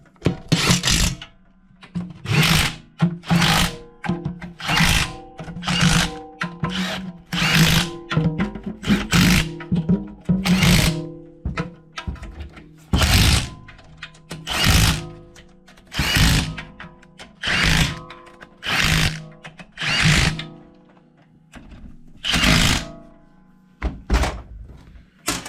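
A power tool runs in repeated short bursts while bolting up the pan on a 727 transmission, with a rhythmic series of loud whirring pulses separated by quiet gaps and occasional thunks.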